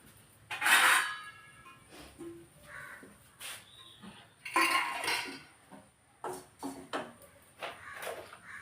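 Metal cookware clanks and scrapes in a few separate bursts, a pot being picked up and set down nearby, with short pauses of quiet between.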